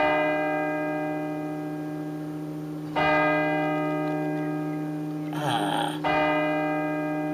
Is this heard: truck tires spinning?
no